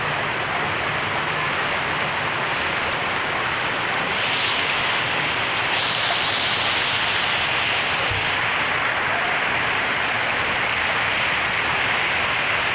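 A spring hail storm on the Rockies Front Range pelts down in a dense, continuous roar, steady and loud from start to finish with no voices.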